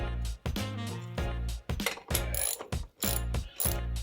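A ratchet with a 13/16 socket loosens the front seat belt bolt on a 1963 Pontiac Bonneville, sounding as loud, close bursts of rapid clicking cranks repeated about eight times with brief pauses.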